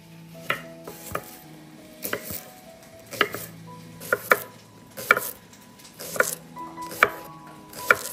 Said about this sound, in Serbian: Dok se kupus prži, iseckat ću na kolutove jedan prasiluk.